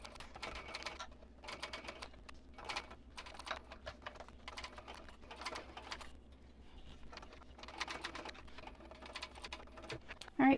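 Short, irregular bursts of rapid machine stitching as a sewing machine sews a Riptide handbag, close and moderately quiet over a low background hum.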